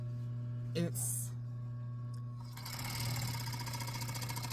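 Sewing machine stitching a fox fur blanket with leather inserts, starting with short whirring bursts and then settling into a fast, steady mechanical chatter up close, over a constant low hum.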